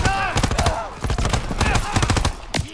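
Machine-gun covering fire rattles through a Call of Duty WW2 firefight, dense bursts of rapid shots near and loud across the whole stretch, with a brief pause partway and a voice shouting over it.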